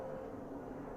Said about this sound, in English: You can probably hear airplanes outside,